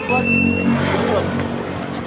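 Engine of a motor cab (motorcycle taxi) running close by on a street, a steady droning hum with a slight rise and fall over about two seconds, with some background voices.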